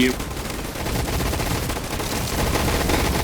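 Dense, continuous gunfire from a video game rattles without pause, rapid shots blending into a steady roar.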